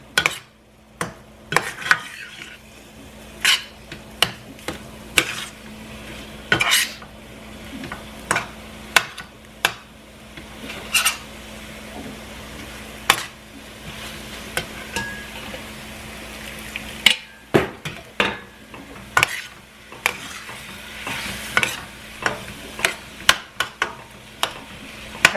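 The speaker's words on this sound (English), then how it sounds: "I'm just going to let this simmer" Taco meat cooks in a pan, a soft bubbling sizzle running beneath repeated sharp scrapes and knocks of a utensil stirring, irregular but frequent throughout.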